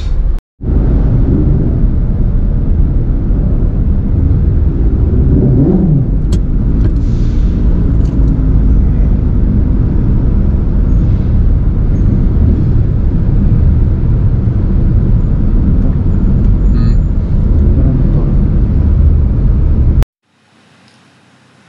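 A car drives out of the ferry pier at Calapan, Oriental Mindoro, a loud, steady low rumble of engine and road noise that holds for about twenty seconds and then cuts off abruptly.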